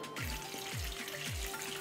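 Squid pieces dipped in egg fry in oil, crackling and sizzling steadily, with a few soft pops breaking through; nearby, no voices.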